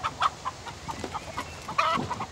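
A hen clucks in short repeated bursts, moderately close, while a dog sniffs around it; some faint background noise sits underneath.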